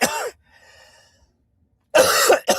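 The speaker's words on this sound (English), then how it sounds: "I'm choking" A person coughs hard twice in sharp, close bursts, separated by a quiet pause with a faint wheezy breath, as if choking.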